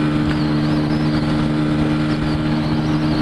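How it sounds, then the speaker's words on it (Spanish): A Hero Ignitor i3S 125 cc motorcycle runs at full throttle while overtaking a truck on the road, giving a steady, loud, strained engine drone mixed with heavy wind noise. "ahí le estoy acelerando a fondo"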